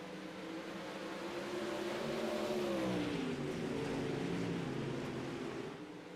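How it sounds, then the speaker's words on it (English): A field of race cars in a heat sweeps through turns one and two on a dirt oval, a loud blended engine drone that rises and pitch-bends as the pack passes, then fades slightly. "Cars into turn 1 and 2."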